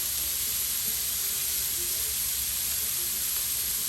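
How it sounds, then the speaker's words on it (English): Three steaks searing in a hot pan for Steak Diane make a loud, unbroken hiss of sizzling that stays constant throughout. "There, we've got 3 seared steaks on one side. And we're going to cook these again"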